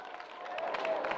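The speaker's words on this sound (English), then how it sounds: "Round of applause." Brief, moderately loud clapping from an audience at a freediving panel discussion, a continuous patter of hands with some crowd murmur underneath.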